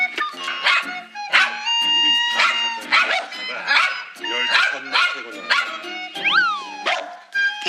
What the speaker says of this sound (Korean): 강 훈련사 방문에 격하게 짖는 녀석들